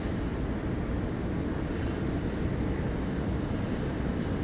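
A Singapore Airlines Airbus A380 jet gives off a steady, broad engine roar at moderate distance, even and unbroken throughout.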